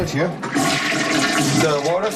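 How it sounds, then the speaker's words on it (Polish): A toilet flush in a very small toilet with a closed water loop and no sink, a steady broad rush of water running continuously and fairly loud up close, with some voice-like tones mixed in. "Gdy naciskam spłuczkę, woda zaczyna wypływać z tej rury."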